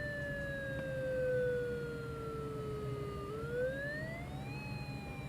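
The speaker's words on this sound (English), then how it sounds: "it's doing the whale siren sound." A wailing electronic whale siren tone from a SirenPi program slides slowly down in pitch, then sweeps back up, steady and moderately loud against a low background hum.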